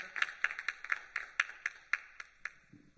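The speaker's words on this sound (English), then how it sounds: "please can we give a round of applause to Miss Rita Boonfi" A handful of people clap at a Miami-Dade community evening event, around a dozen sharp, fairly close hand claps in an irregular rhythm that thin out toward the end, with a low murmur rising briefly at the close.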